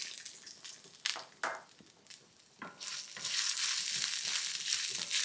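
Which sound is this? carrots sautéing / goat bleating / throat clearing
carrots sautéing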